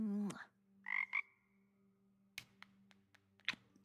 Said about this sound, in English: cute little frog.